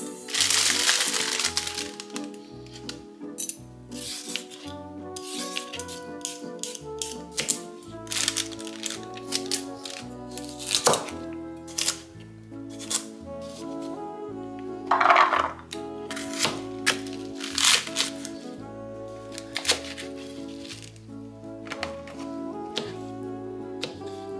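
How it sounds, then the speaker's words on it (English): A knife chops carrots, bok choy and mushrooms on a cutting board in bursts of crisp, close cuts, with irregular rhythms and pauses between runs, over soft background music. "I'm gonna cut these vegetables up in bite-sized pieces"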